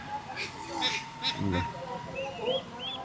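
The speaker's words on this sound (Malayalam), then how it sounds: "എല്ലാം താറാവ് പല വലിപ്പത്തിലുള്ള, പല കളറും, വലുതും." Several ducks honk and quack in short bursts amid a busy local market in Assam, with voices murmuring nearby; moderately faint.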